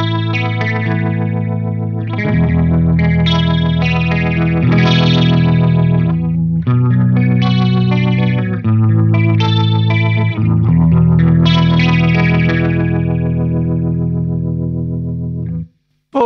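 Electric guitar played through a Mooer micro vibrato pedal set to a higher effect level, giving a sustained, wavering chordal tone that rings steadily and loud for about fifteen seconds before cutting off, with no talk.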